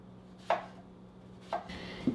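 Cucumbers being sliced with a knife on a board, three separate crisp cuts spaced about a second apart, close and quiet, with no one speaking.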